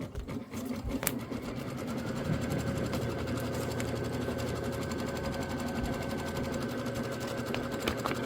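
Embroidery sewing machine stitching a placement line for quilt batting, whirring in a steady, fast mechanical rhythm with a continuous hum and rapid needle chatter, close by and alone throughout.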